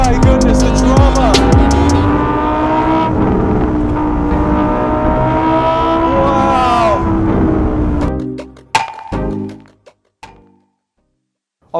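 A Lamborghini Huracan EVO RWD Spyder engine roars loudly, then blips through sharp, crackling downshifts, pulling up close before popping and dying away into near silence.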